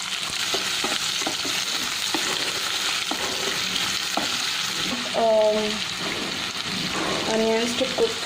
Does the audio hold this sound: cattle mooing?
no